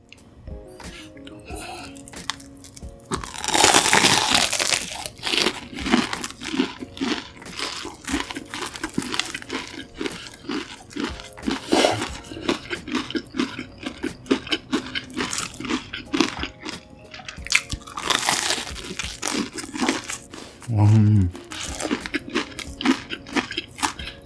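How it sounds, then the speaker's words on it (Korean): Close, crisp crunching and chewing on a crunchy convenience-store hamburger, with repeated bites and wet mastication sounds running throughout, and a louder crunch burst near the start. "햄버거는 엄청 바삭할 것 같네요. 바로 먹어볼게요."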